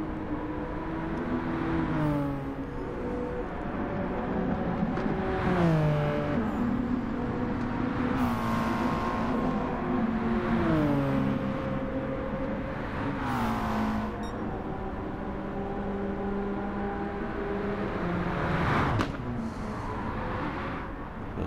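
Group 4 race cars in a Gran Turismo 7 Manufacturers Cup race, their engines revving up and shifting through gears in repeated rising whines, with a continuous close drone and other cars passing.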